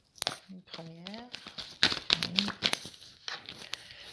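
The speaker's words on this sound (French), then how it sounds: "je prends 3 cartes pour les Verseaux" Tarot cards drawn from a deck, with light papery slides, flicks and crinkles scattered under someone speaking steadily close by.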